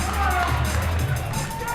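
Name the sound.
crowd cheering at parkour championship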